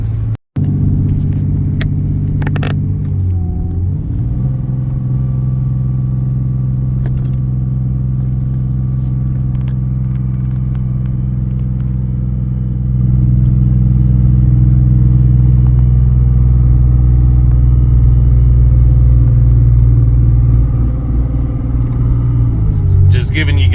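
Steady car road noise and low engine rumble while cruising along a highway toward a forest, loud and continuous throughout, growing somewhat heavier partway through, with no talk.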